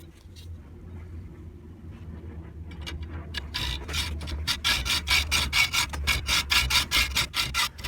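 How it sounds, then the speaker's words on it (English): A metal file rasps across the hacksaw-cut end of a screw, first in faint scattered strokes, then in loud, fast, steady back-and-forth strokes up close. "The cut gets always a little uneven, so I have to use my metal file."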